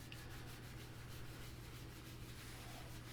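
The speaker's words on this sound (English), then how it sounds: "once the collar is all together, start sanding it down" Continuous sanding of a wooden keezer collar being smoothed for staining, a steady dry rubbing scratch with a low hum underneath and no talking.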